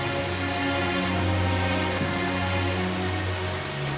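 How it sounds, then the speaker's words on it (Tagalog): Steady rain falling near a former pig pen, a dense even hiss with a low background hum, continuous and fairly loud throughout with no voices. "dahil umuulan"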